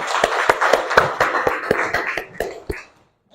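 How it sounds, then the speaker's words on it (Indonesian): A classroom of students claps for a classmate, a run of sharp, fairly regular hand claps for about three seconds that stops abruptly, with no talking. "Tepuk tangan dulu untuk temannya"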